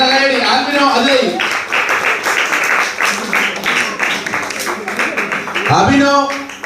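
An audience claps at a VBS 2022 children's program in Eruthavoor, Balaramapuram. Someone speaks into a loud microphone at the start and end, with a few seconds of brisk group clapping in between.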